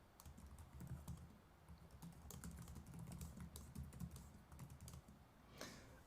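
Fast, continuous typing on a computer keyboard, dense clicking taps at a busy rhythm, fairly faint under a low background hum.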